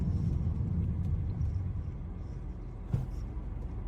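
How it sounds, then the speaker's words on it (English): A 2003 Chevrolet Monte Carlo SS engine idles with a low, steady rumble, quiet and even, with one brief faint knock partway through. "In fact, you can even hear how quiet the engine is."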